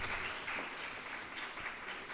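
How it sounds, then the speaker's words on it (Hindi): Audience applause at a school farewell event for outgoing students, a dense steady patter of many hands clapping, fairly faint and distant throughout. "जोरदार तालियां हो जाए।"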